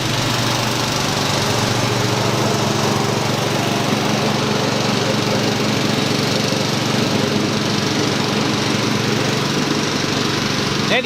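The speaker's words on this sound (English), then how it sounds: "neighbors mowing." A neighbour's lawn mower runs continuously, a loud steady engine drone with a buzzing hum that holds without pause throughout.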